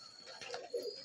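A black-eyed high-flying pigeon of the old-line karungan type coos softly nearby, a short rolling coo over a steady hiss of background noise.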